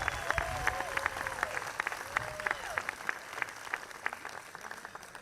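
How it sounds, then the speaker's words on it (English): Audience applause for Israel at a Night in Oaxaca 2022 cultural event, crowd clapping with sharp individual claps, some whistles and cheering voices mixed in. "Let's give Israel another round of applause."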